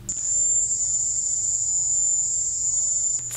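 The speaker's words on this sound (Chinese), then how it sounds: "刺耳的嗡嗡声，又像是蟋蟀叫的高频声音，被认为可能就是遭到声波攻击时会听见的音波" A recording of the high-pitched buzzing linked to the Havana sonic attacks on diplomats in Cuba: a piercing, steady cricket-like whine that holds unbroken for about three seconds and stops abruptly, loud and alone.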